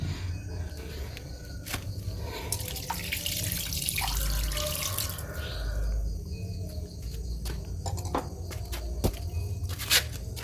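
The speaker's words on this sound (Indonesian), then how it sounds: "dialiri dengan air keran." Tap water runs to rinse out the cells of a car battery, a steady, fairly faint splashing flow with crickets chirping in the background and a few clinks and knocks.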